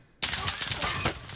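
A loud burst of rapid gunfire in Call of Duty erupts suddenly after a brief quiet moment, with several sharp cracks blending into a sustained, dense barrage.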